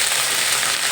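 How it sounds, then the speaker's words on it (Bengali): Ginger, cumin and garlic paste sizzles and fries in hot oil over a low-to-medium gas flame, a steady close hiss with no pauses. "সে বাটা মশলাটা দিয়ে দিলাম। এখন একটু নেড়ে চেড়ে নেব।"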